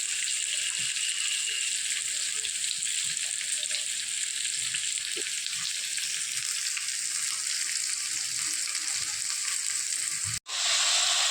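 Potatoes and onions fry in a pan with a steady, close, broadband sizzle that runs unbroken, then cuts out sharply near the end before resuming.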